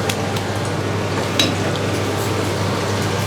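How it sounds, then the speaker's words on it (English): Shallots frying in a pan, a steady close sizzle running the whole time, with a few faint clinks of a utensil against the pan. "First, we fry the shallot first."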